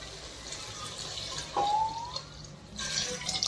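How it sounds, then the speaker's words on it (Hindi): Water goes into a pan of fried sambar masala, giving short splashing bursts and soft trickles over a quiet kitchen background, close and moderately loud. "ये फ्राई हो चुका है अब इसमें मैं पानी डाल देती हूँ"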